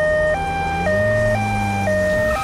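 A loud cartoon ambulance siren wails in a steady two-tone pattern, alternating high and low pitches about every half second, with a vehicle engine rumbling underneath.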